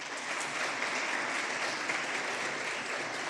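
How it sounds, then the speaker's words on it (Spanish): Audience at a university leadership lecture applauding students, a continuous, even wash of many hands clapping at moderate volume, sustained for a few seconds without talk. "Quisiera un aplauso para ustedes."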